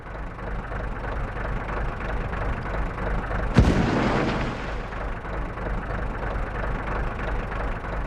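A single heavy artillery shell lands nearby in World of Tanks gameplay, one sharp booming blast with a rumbling tail over a constant idling tank engine drone.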